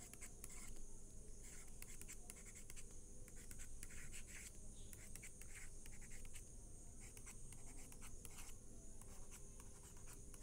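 Someone writes on a board during a logic gates lesson, with quick scratchy strokes coming in irregular bursts, faint and continuous for about ten seconds, with no voice.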